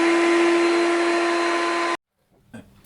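A vacuum cleaner hoovers dust around a pipe organ with a loud, steady droning whine and hum that runs for about two seconds. It cuts off abruptly, leaving near silence and then a faint knock.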